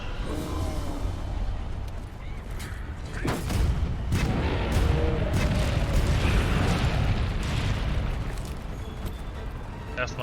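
Cannon fire in Monster Hunter World: Iceborne, with heavy booming blasts and rumbling impacts over continuous game noise, the loudest burst arriving about three seconds in, while a player talks over it.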